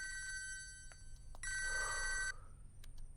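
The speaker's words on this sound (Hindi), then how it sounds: "हाँ फोन उठा, मेरा फोन उठा।" A telephone rings with a bright electronic trill, a brief chirp followed by a longer sustained ring, fairly near over quiet background hiss.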